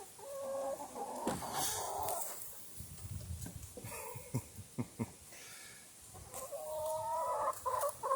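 Several chickens cluck and murmur close by outdoors, with soft irregular clucks, a few sharp peeps and scratching noises, rising into busier chatter toward the end.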